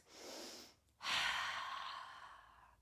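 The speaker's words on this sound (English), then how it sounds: "Maybe take a couple of in-breaths, big exhales." Deep breathing during a mindfulness stretching session: a long, airy inhale followed after a brief pause by a big, sustained exhale, close and fairly soft, with no talk.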